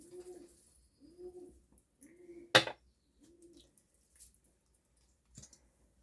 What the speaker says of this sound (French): T'as les pigeons. Ils sont en pleine ébullition en ce moment.